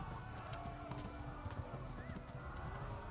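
A horse galloping in Kingdom Come: Deliverance, hooves pounding in quick rhythmic beats with a brief whinny, over a dense background of game noise.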